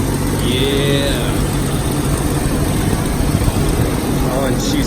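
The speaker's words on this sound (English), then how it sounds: "It's got that typical little exhaust leak down there, like all the good old straight sixes have" An old Jeep Wagoneer's straight-six idles steadily with a small exhaust leak, giving a low continuous rumble. Voices talk nearby over it.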